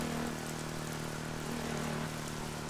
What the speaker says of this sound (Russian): Ну вот и дождик не заставил себя долго ждать.